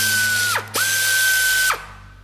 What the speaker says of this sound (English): Rotate the two locking cylinders counterclockwise.